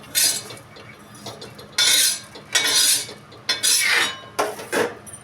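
Spices dry-roasting on a very hot iron griddle, stirred in sharp repeated scraping bursts of metal on metal, close and loud with short pauses between strokes.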